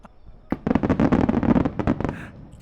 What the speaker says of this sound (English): What a fireworks!